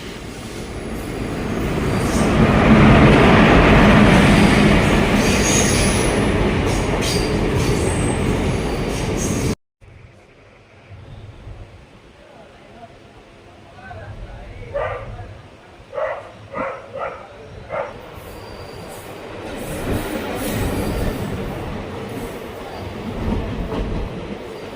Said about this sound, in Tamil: கோயில்பட்டி ரயில்வே ஸ்டேஷனுக்கு வந்து வண்டி வந்து வந்துருச்சுங்க